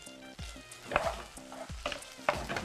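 Ginger, garlic, onions and green chillies are stirred in a pan for mutton kheema curry, with soft, repeated scraping strokes over a faint sizzle, quiet and close, with no speech.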